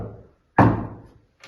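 A single sharp knock on a table, close and fairly loud, followed by a brief decay and a faint second tap, in a care home.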